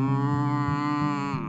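A sung cow moo in a children's farm song, a long steady mooing tone with rich harmonics held for over a second, loud and close over a simple musical backing.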